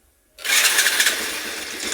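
A motorcycle fitted with a triple-electrode spark plug fires up and revs after a near-silent moment, its engine suddenly roaring loud and close, then holding a strong, steady throttle note to the end.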